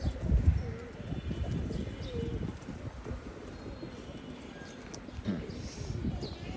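Pigeons coo in a loft, with low, rolling calls rising and falling a few times against a soft background of shuffling and rustle. A voice may be faintly present.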